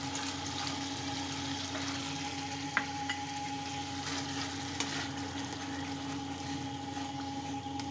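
Fish is stir-fried with a paste of ground cashew and melon seeds for a Bengali vetki dish, giving a steady close sizzle and bubbling with a few faint utensil clicks, no talk.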